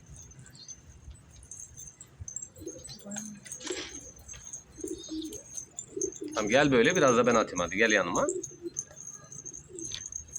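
Pigeons in a newly built loft give soft cooing calls with a few bird chirps, mixed with jangling keys and someone speaking close by; a louder burst of bird sound stands out in the middle.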